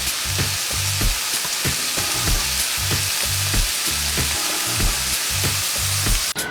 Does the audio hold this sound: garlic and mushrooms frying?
yes